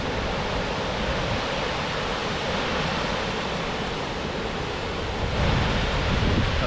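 Triple Falls on the Oneonta Gorge trail in the Columbia River Gorge roars as a steady broadband rush of falling water, close and constant, with a slight swell near the end.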